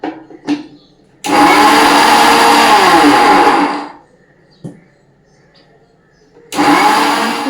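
A kitchen mixer grinder blends ingredients into a paste in loud bursts, with a brief run near the start, a long roaring stretch of about three seconds, then a pause before it starts up again.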